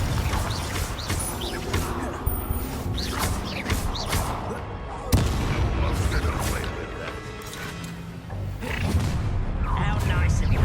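Confringo fire spell blasts in the Hogwarts Legacy video game, loud booming impacts and crashes amid battle effects, with voices talking over the fighting.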